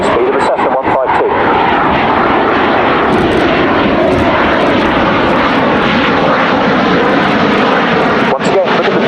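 A Belgian Air Force F-16 flies at the RIAT 2017 airshow, and its loud, steady engine roar fills the whole stretch while a commentator talks over it.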